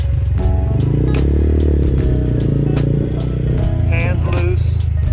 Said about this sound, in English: Get the bike warmed up right now.